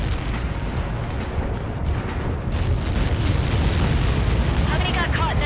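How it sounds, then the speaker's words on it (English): A massive explosion from the Ace Combat 7 flight game, Helios projectile impact, a sustained deep roaring rumble filling the whole clip at steady high loudness, with faint whistling streaks near the end. "How many got caught in that explosion?"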